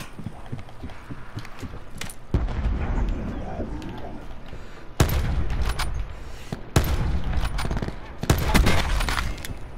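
Gunfire in Call of Duty Black Ops 4, bursts of sharp shots in several clusters between quieter stretches, fairly loud and close, with some mid-range game noise underneath.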